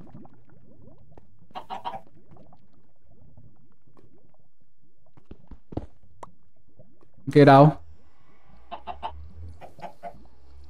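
Minecraft chickens give scattered short clucks, with one loud squawking burst near the middle, over near-silence broken by faint clicks; a voice speaks briefly.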